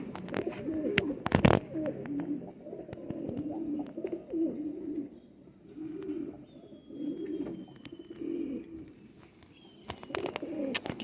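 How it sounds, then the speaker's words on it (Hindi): A white high-flyer pigeon, a male, coos in repeated low rolling phrases close by, with a few sharp flutters and knocks scattered between the calls. "परवास का चिट्टा कबूतर है।"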